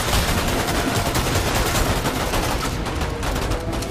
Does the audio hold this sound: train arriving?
no